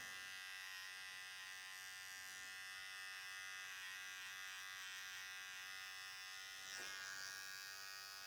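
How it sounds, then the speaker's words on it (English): Electric hair trimmer buzzing steadily and close while cutting a French crop, its tip working the hair in a continuous hum with a brief rise in pitch near the end. "just using the toe of my trimmer"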